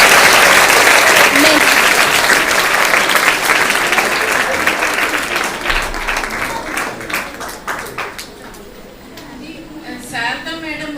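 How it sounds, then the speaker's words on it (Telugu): An audience claps loudly and steadily for a counsellor and NGO founder at an event, the applause gradually thinning into scattered claps, with a voice speaking over the tail end. "శారద మేడంకి బిగ్ క్లాప్స్ ఇవ్వండి."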